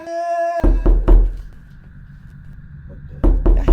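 Knocking on a door in the horror game No, I'm not human: two close groups of loud, heavy thumping knocks, separated by a quieter pause, with a brief tonal chime before the first group.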